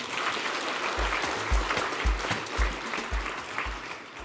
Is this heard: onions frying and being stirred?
no